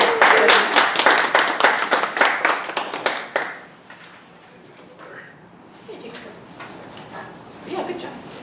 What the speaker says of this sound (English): Everybody give Ashley a round of applause